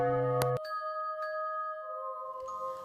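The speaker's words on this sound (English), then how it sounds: "nearby residents claimed to still hear the bell although it was removed." A single bell strike, bright and ringing, decays into a long sustained tone that fades slowly over a quiet background, alone with no voices.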